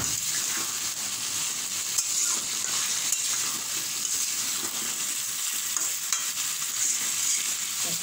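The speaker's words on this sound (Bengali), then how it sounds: "আমগুলো একটু ভালো করে কষাই নেব এখন" Raw mango pieces are sautéed and stirred in a pan for a sweet pickle, with a steady close sizzle broken by scraping stir strokes throughout, no talking.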